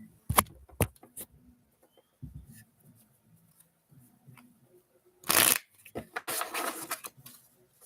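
A tarot deck shuffled in several quick riffling bursts separated by quieter gaps, close and crisp, with soft handling noises in between.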